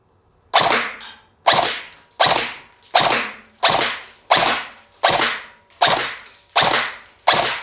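A KWA Ronin TK.45 Tekken AEG airsoft rifle fires in semi-auto, nine sharp, loud single shots at a steady pace of about one per second, each with a quick decaying snap and no voices.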